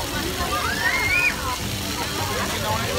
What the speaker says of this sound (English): playing in the splash pad